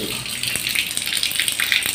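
Water runs from a tap in a flood-hit village home, a steady, close gushing rush with no other sounds.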